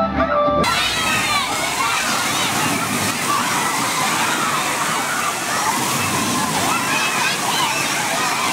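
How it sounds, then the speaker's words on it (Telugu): Water waves churning at Rock Valley resort during a school children's picnic, a loud continuous rushing and sloshing roar with faint voices mixed in. "కింద అలలు కూడా చాలా బాగా వచ్చాయండి."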